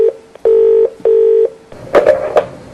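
A telephone call rings out with two long, loud tone bursts separated by silence, followed by a short, noisy clicking burst as the line connects.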